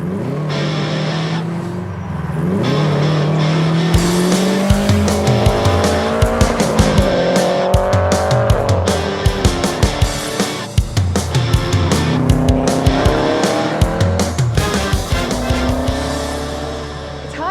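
A 1999 Subaru WRX revs hard and loud with engine notes rising and falling through gear changes, tires squealing repeatedly as it is driven aggressively.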